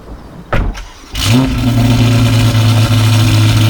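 A 704hp Novitec Ferrari Roma Spider engine starts with a couple of sharp cranking bursts, then catches and roars into a loud, steady revving drone right up close.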